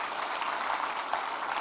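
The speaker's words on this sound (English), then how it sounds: "we really have to give Secretary Cristina a round of applause" Audience applause at a tourism industry convention reception in Pasay City, Philippines, a short dense burst of clapping from a large crowd.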